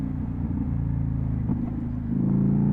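A 2025 Indian Scout motorcycle engine idles with a steady, close, low rumble that swells noticeably toward the end as the RPM drifts upward.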